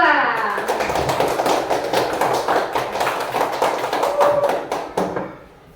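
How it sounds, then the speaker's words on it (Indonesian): Classroom applause for a student group: many hands clapping quickly and steadily for about five seconds, close and fairly loud, then tapering off at the end. "tepuk tangan untuk kelompok 2"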